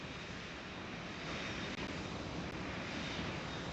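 Airbus A380 airliner in the game PTFS, its jet engines a loud, steady broadband roar that holds evenly for several seconds with no voices.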